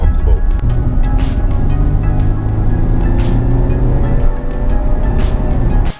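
A 2016 Infiniti QX70s cruising on the motorway, with a steady loud road and engine drone and tyre rumble continuing unbroken throughout, no voices present.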